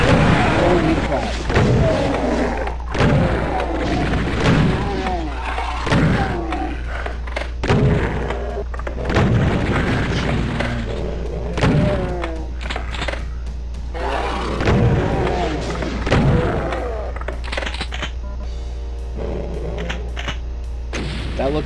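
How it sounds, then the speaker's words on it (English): Repeated Revenant rocket blasts in Doom II, a run of booming thuds landing every second or two across the stretch, loud and close, over steady game noise with a player's voice talking. "That looked like a Revenant rocket."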